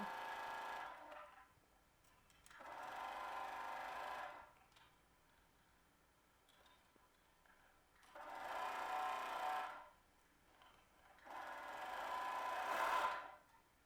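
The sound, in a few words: serger attaching two dress pieces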